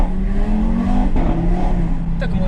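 Audi RS3 with S-Tronic gearbox accelerating hard on a short straight, engine note rising steadily and loud from inside the car, with wheelspin and a brief shift-like dip midway.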